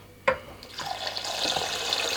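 Sushi rice is rinsed under a running kitchen tap, and a steady stream of water splashes into a sink or bowl. A sharp knock is heard near the start, then the splashing continues close and moderately loud.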